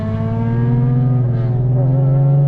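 A loud, modified Infiniti G37 engine drones steadily close by, a deep rumbling tone with a slight rise in pitch near the end, no talking.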